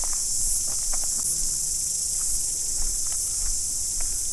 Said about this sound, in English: the cicadas are yelling.